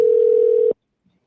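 A telephone line sounds a loud, close, steady single-pitch tone during a live call-in show, then cuts off abruptly and leaves near silence.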